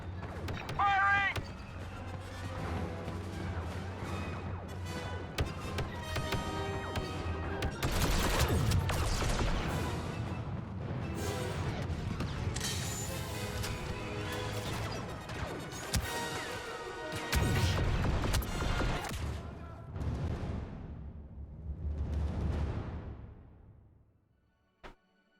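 Dense battle gunfire in a video game skirmish, with repeated bursts and crashing impacts running almost continuously for about 24 seconds, loud and busy, before cutting off at the end.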